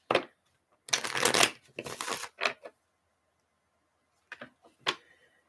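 A deck of reading cards is shuffled close by in several quick riffling bursts, the longest near the start, then short pauses and two brief flicks near the end.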